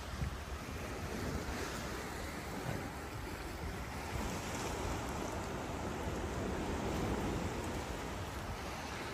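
Ocean surf at Praia da Concha beach in Guarujá, a constant broad wash of breaking waves mixed with heavy wind buffeting the microphone, steady and unbroken throughout.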